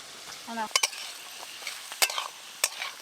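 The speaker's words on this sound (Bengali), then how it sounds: "তুমি তাহলে সবজিগুলো ভাজো" Carrots and beans fry in a pan with a steady bright sizzle, broken by a few sharp spatula clicks against the metal and a brief tonal squeak near the start.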